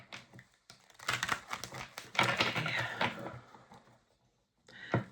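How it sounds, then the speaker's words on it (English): Tarot cards being shuffled during a card reading, a run of crisp riffling and slapping bursts that builds to a dense stretch, then pauses before one last short shuffle, close and fairly quiet, with a brief spoken word. "One more shuffle, please"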